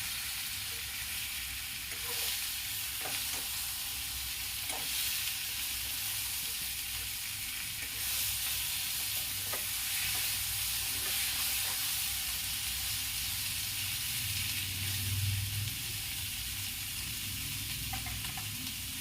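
Steady sizzling of peas frying in a pan, with occasional scraping stirs and soft clinks throughout.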